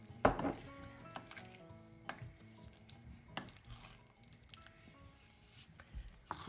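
Lancashire hotpot stew with bay leaves being stirred in a pot, with soft squishing, patting and occasional clinks of a utensil against the pot, close and fairly quiet, with some background music.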